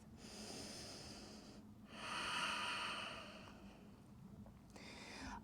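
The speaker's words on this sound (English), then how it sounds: "Breathe in. Breathe out." Slow breaths during a yoga class, a soft exhale, a longer louder breath in and out, then another faint breath starting, close and quiet with no other sounds.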